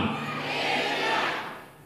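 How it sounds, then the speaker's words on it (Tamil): Church congregation with hands raised, shouting hallelujah together at full volume, a dense, sustained roar of many voices that swells and then trails off. "இப்ப எல்லாரும் கை உயர்த்தி அல்லேலூயா சொல்லுங்க சத்தமா"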